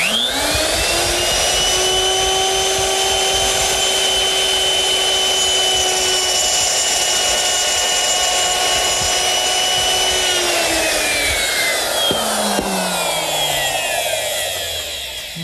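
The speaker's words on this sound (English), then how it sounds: "I'm going to use my router, which is set up with a 1/4" round nose bit and a rip fence." A router with a 1/4-inch round nose bit runs against a rip fence, cutting a groove in wood with a steady, loud high whine that holds for about ten seconds before winding down as the motor spins to a stop.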